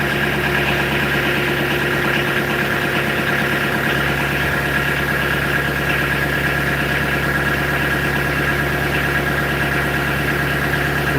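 Engine of a newly delivered gardening machine idling steadily throughout, a constant mid-pitched hum with faint vibration, close and unbroken by speech.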